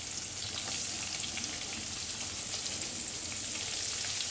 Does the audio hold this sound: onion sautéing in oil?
yes